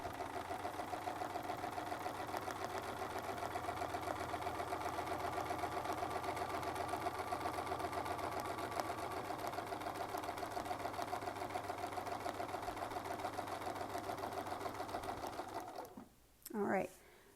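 Sewing machine running steadily and close for about sixteen seconds while stitching a quilt block with a Westalee Spin E Fex ruler, then stopping abruptly, followed by a short soft sound.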